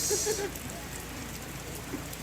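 Heavy rain falling steadily through the evening at a tongkonan in Batukianak during a memorial service, a dense continuous hiss with people talking faintly beneath it.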